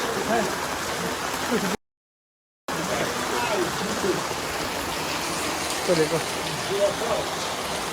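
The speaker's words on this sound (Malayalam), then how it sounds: "बारिश है बारिश" Steady rain patters and hisses on surfaces throughout in a village in Ghazipur, Uttar Pradesh, with a brief dropout of silence; faint voices murmur in the background.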